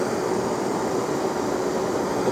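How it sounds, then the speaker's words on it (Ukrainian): A cheap gas burner roars steadily at full flare with a broad, even hissing rush that holds loud and unbroken throughout, with no voices over it. "Я відкриваю вентиль, запалюю пальник."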